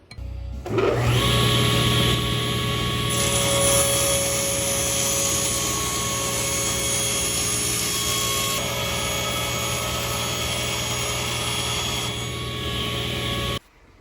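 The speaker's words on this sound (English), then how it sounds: "put a mark, take it to the saw, give her a cut." A power saw cutting through wood for a knife block spins up and runs in one loud, sustained whine for about twelve seconds, then stops abruptly, with no talk.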